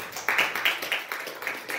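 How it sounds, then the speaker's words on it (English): A church congregation at a Sunday evening service claps in a quick, uneven rhythm of sharp hand claps, moderately close with faint background voices. "give the Lord a hand clap"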